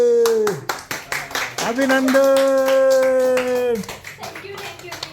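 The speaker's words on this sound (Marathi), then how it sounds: "चला टाळ्या वाजवा रे" A family claps together in celebration of a girl's good tenth-grade exam results, a run of quick, close hand claps mixed with cheerful voices and a drawn-out sung or called-out tone.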